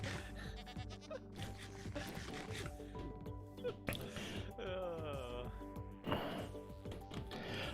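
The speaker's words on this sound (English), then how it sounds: "Most annoying goat ever." A goat bleats in a game zoo setting, a wavering cry rising above steady background music with soft clicks and brief voices around it.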